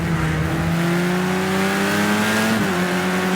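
A racing car engine in a video game holds a steady high drone, pitch creeping upward before a sharp gear-change drop near the end, loud and continuous with no talk.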